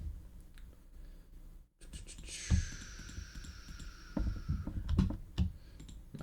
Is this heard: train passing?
no